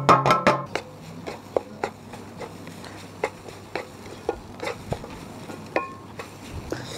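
Grated coconut dry-roasting in a pan, stirred with repeated scrapes and light clicks against the metal, brief clatter at the start, close and moderately loud with no talking.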